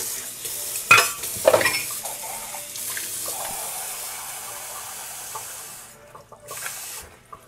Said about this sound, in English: So I just added some more water.